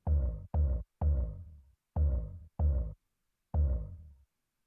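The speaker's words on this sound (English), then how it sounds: "So we've got this kick drum here." Electronic breakbeat kick drum built from a vocal "oomph" sound, six punchy low thumps with short decaying tails in an uneven pattern, loud and alone with silence between hits.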